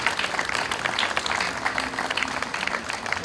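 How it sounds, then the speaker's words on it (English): Audience applauding a band at the opening ceremonies of a Day of Portugal celebration, dense continuous clapping heard close and fairly loud for about three seconds, with faint crowd murmur and no talking. "I ask you for a round of applause for this great,"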